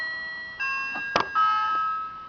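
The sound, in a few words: Playmobil toy house doorbell ringing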